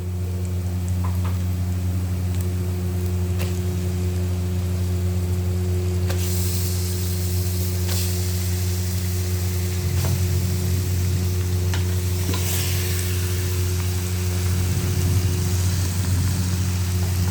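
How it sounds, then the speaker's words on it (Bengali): Meat fries in a ginger-garlic spice paste with a steady, loud sizzle. A low engine-like hum runs underneath, and occasional stirring scrapes come through. No one speaks. "এখন এটা হয়ে গেছে, আমি মাংসটা ঢেলে দেব।"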